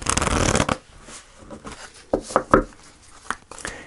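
A deck of oracle cards shuffled for a tarot reading: a quick riffling flutter at the start, then a few softer card slaps and rustles, close and clear with no talking.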